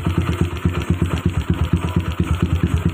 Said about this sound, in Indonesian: kita tarik gas sedikit